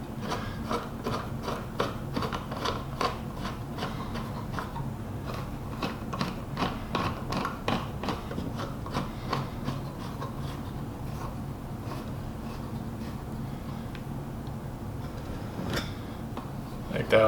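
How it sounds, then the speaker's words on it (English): Bolts on the belt pulley housing of a drill press are unthreaded, giving repeated close rasping, ratcheting clicks in a steady rhythm over a low hum. "adjust the tension for the belt itself by just basically unthreading these bolts, and it pulls this whole pulley housing back"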